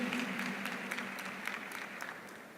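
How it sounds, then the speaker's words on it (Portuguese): A church congregation applauds steadily during a Sunday homily in Brazil, a dense wash of many hands clapping close and even at moderate loudness for a few seconds, with no speech over it. "Vamos aplaudir nossos irmãos evangélicos."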